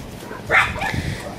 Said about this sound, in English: Somebody having a good old bark.